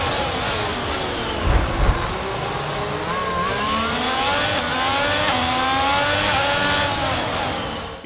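Formula 1 cars, one with a Renault engine, race in the F1 22 video game. A loud, continuous high engine whine rises and falls in pitch as the cars shift through the gears, with a brief thump partway through.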